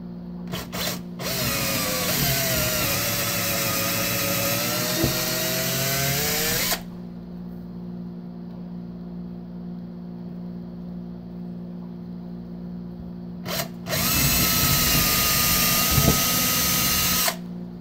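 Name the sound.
power drill drilling holes through table with 5/32 bit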